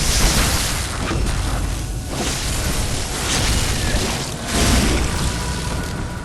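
Heavy booming blasts, as from a cannon in the video game Bloodborne, go off a few times amid dense, continuous roaring game noise.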